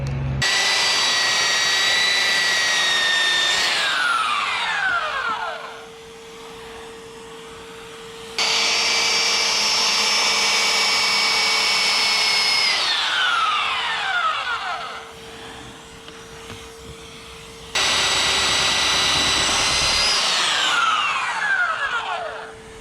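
Belt sander grinding a fiberglass cap rail on a Westsail 42 sailboat, running in three long loud bursts with pitch sagging under load and spinning down between passes, close by.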